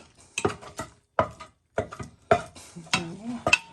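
Cooked rigatoni pasta being mixed by hand in a bowl, with wet squelching and clattering bursts in uneven clumps, close and fairly loud, with short gaps between strokes.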